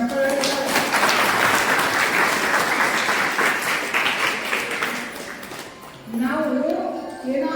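Listeners at a social work camp lecture in Babanagar clap together in a thick, steady round of applause that fades toward the end, when a voice resumes speaking.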